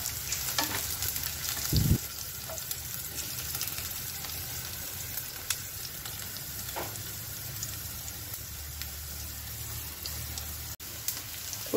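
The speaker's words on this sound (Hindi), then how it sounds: "मेटल वाले कलछुल से आवाज़ हो रही थी, मैंने लकड़ी का कलछुल ले लिया है।" Food frying in a pan for upma as a wooden ladle stirs it, a soft steady sizzle with occasional muted scrapes and one dull thump, quiet and with no talk.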